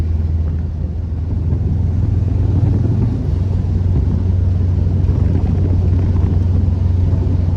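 A tuned Subaru Impreza WRX STI Bugeye cruises gently from inside the cabin, a loud, steady low engine drone with road rumble and no strong revving.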